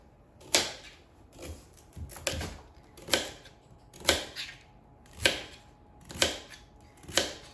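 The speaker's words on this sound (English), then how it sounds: "So I'm just cut them into fairly evenly sized pieces." A knife chops peeled parsnips into evenly sized pieces on a cutting board, about eight crisp, sharp strikes falling at a steady pace of roughly one per second. The sound is close and clear, with no talking.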